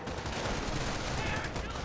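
Machine gun fire in the Company of Heroes video game: a dense, continuous clatter of automatic gunfire with no clear gaps, steady and fairly loud throughout within the din of the battle.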